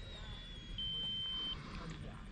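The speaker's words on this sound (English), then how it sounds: "I hear that beep and I know to bring her in." An RC plane's flight timer, on an 8s Flexjet, lets out a thin steady electronic beep lasting under a second. It sits faint over windy outdoor noise at the flying field.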